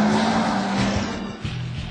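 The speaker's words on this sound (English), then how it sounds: "Listen to that engine." Maybach Exelero car engine accelerating hard, a loud, close roar with a rising tone and a brief dip as the car surges forward, rough road or tire noise mixed in.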